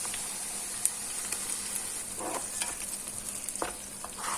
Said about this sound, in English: we can start adding in the chili paste, blended chili paste